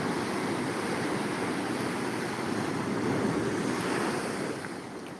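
Steady roar of sea waves surging and breaking at Shankarpur beach, a dense unbroken rush of surf with some wind noise, fading a little near the end.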